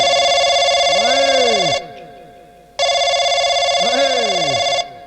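A telephone bell rings loudly in two long electronic bursts separated by a short pause, with a warbling tone running through each burst.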